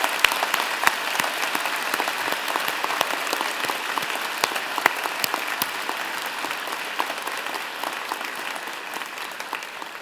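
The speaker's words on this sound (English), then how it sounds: "join me and the platform party in thanking them with a vigorous round of applause" Sustained, vigorous applause from a large convocation audience at a law and public policy graduation ceremony, dense and steady throughout with no speech over it.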